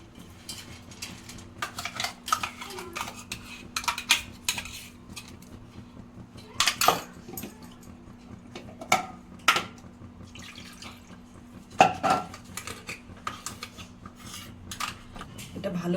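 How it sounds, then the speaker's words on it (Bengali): A spoon scrapes and clinks against a pot as milk and sugar for malai kulfi are stirred. Rubbing strokes recur irregularly with a few sharper metallic knocks, close and moderately loud, with no talk. "খুব নাড়তে হবে এখন পেস্টটা দিয়ে দিব"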